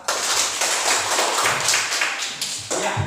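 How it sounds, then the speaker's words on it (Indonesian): A classroom of students claps for a presenting group, a lively burst of fairly close, steady clapping that carries on for a few seconds without any talking. "kita berikan tepuk tangan untuk kelompok 2"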